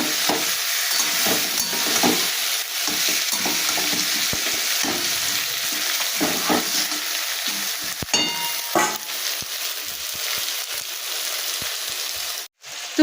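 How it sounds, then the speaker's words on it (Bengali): Potatoes and onions fry in hot oil in a Bengali home kitchen, a steady, dense sizzle with scraping stirs and occasional clacks running continuously and close, with no talk. "আলু আর পেঁয়াজ খুব ভালোভাবে আমি ভেজে নিয়েছি"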